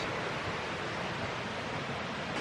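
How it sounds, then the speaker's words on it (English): Steady broadband rush of a river flowing beside a shady pine forest campsite on Shingle Creek, continuous and fairly loud with no pauses, like close water noise filling the air. "The river's right there."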